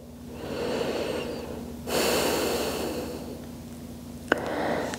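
Slow, smooth yoga breathing close to the mic, a long airy inhale followed by a steady exhale, quiet and unhurried with no talking.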